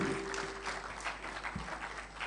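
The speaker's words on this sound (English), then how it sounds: "All the contestants now, you're free to clap." Audience applause at a youth presidential debate in Nigeria, a steady broadband patter of many hands clapping throughout, moderately loud with a faint low hum underneath.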